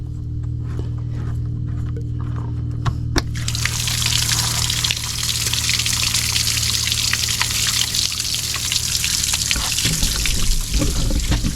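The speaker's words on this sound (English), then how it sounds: "I filled the bilge up with some water using the garden hose, and that's where it's coming out" Water pours steadily from the bilge port of a Tracker bass boat after the bilge was filled with a garden hose, a continuous close splashing trickle over a low mechanical hum that starts a few seconds in.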